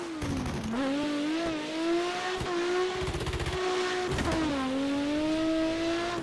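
A synthetic-sounding street car engine in Assetto Corsa, drifting on a touge track, holds a steady high whine with abrupt shifts in pitch and occasional tire squeals, no voices.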